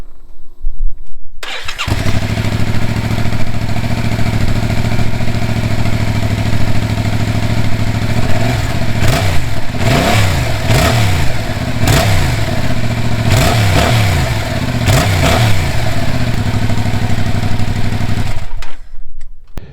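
A Yamaha MT-07 motorcycle on its stock exhaust starts and idles loudly up close, then is blipped through several sharp revs in a row before settling and cutting off, with no talking.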